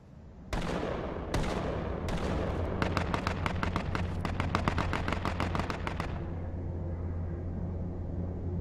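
Gunfire in the battle-royale game H1Z1 King of the Kill: a few loud single shots, then a long run of rapid automatic fire that stops abruptly, leaving a steady background hum.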